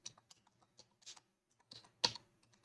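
Python for-loop code typed on a computer keyboard: scattered close key clicks in an uneven rhythm with one louder keystroke near the end, soft and alone with no talking.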